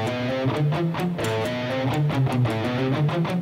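An electric guitar plays a quick shred lick of separately picked notes, some of them palm-muted, in a steady rhythm of crisp attacks, alone and clear with no talking.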